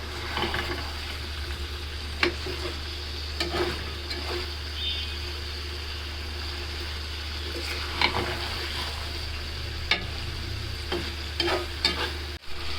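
A pan of native chicken sizzles steadily as a spatula stirs and scrapes it, with scattered sharp clinks against the pan over a constant close frying hiss.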